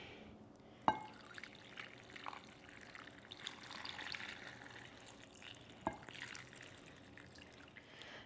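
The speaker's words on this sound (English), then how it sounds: "Hot broth now is going to go right over our noodles and our meat." Hot pho broth poured over rice noodles and flank steak in a bowl makes a quiet, soft liquid splashing and trickling, with a couple of light clinks along the way.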